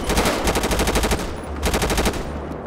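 Rapid automatic gunfire from a gun in GTA 5, loud and close, in two sustained bursts of quick regular shots with a short break between them and no talk over it.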